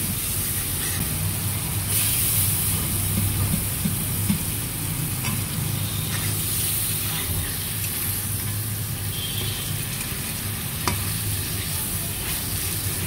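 Masala sizzles in a pan for a bottle gourd, potato and tengra fish curry, a continuous close hiss with intermittent stirring scrapes and clicks, no voices.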